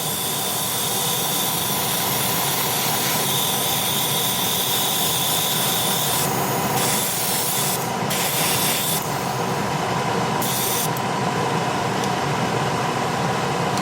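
A steady, loud hiss of spray paint on a 1/48 M1A2 Abrams model kit runs throughout, with a few brief changes in tone as the spraying shifts.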